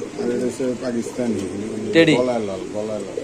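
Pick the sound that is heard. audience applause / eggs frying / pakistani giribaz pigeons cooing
pakistani giribaz pigeons cooing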